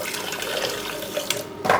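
Water poured into a cocktail glass during drink making, a steady splashing, trickling stream heard close up, ending with a brief brighter splash and no voices.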